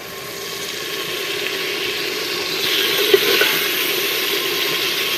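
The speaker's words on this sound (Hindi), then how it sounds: "अभी जी हमारे मसाले जो है ना फ्राई हो चुके हैं माशाल्लाह से।" Spices frying in a pan with oil, a continuous close sizzle and hiss that swells slightly midway, with a faint clink of stirring.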